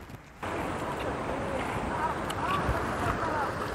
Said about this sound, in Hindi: ये है हुंडरू फॉल,